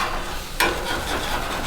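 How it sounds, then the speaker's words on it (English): Food sizzles on the hot stainless steel grates of a new Monument Eminence E605 gas grill, a steady close frying hiss with a sharp scrape or flick partway through. "Got a nice sizzle there."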